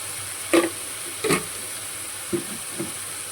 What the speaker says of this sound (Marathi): या सगळ्या भाज्या आता मी टाकून घेतले, मस्त मिक्स करते